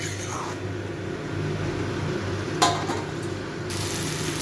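Chopped banana flower sautéing in a pan over a high gas flame for a Bengali mochar ghonto with coconut and chickpeas; a steady soft sizzle with a brief clatter of stirring midway, under a low hum.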